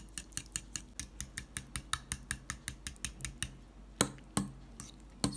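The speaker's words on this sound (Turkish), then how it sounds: "Güzelce çırpalım." A whisk rapidly beating garlic yogurt in a bowl, producing a quick, regular run of light clinking strokes, then a few slower, heavier taps at the end, close and quiet with no talk.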